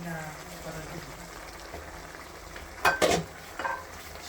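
Prawn bhuna being stirred in a pan during village cooking in Moulvibazar, Bangladesh, with a soft, low sizzle and a few brief scraping stirs near the end, under a faint voice.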